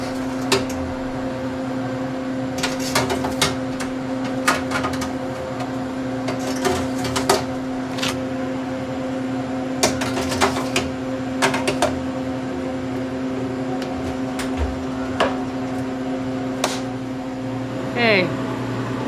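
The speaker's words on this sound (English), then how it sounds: "we're just going to use the freeze dryer as a great way to preserve it" Steady mechanical hum of a freeze dryer running, with repeated sharp clicks and clatters of handling over the drone and a brief squeak near the end.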